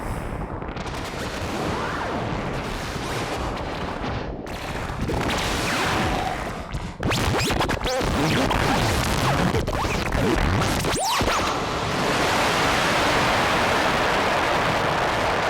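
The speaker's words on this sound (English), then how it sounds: "I'm listening to wave-folded, modulated sine waves coming from the A121S in stereo" Wave-folded, modulated sine waves from an A121S synthesizer module in stereo form a dense, loud, continuous noisy wash with abrupt shifts and crackling bursts throughout, with no talking.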